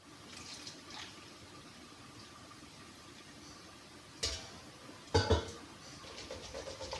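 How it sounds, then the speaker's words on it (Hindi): Water pours into a cooking pot (bhagona) while making kadhi, a steady soft splashing hiss with two sharp metallic clanks of utensils partway through, close and fairly quiet, no talking. "इसमें पानी डाल लेती हूँ, पानी तो बहुत डलेगा कढ़ी के अंदर"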